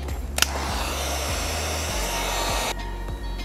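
A heat tool blows hot air onto vinyl wrap along a car fender edge. It makes a loud, steady, close whirring rush of air that holds constant throughout, with a brief click near the start.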